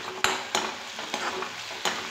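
A spoon stirs Schezwan veg fried rice in a hot pan, several scraping strokes at an uneven rhythm over a continuous close sizzle, with no talking.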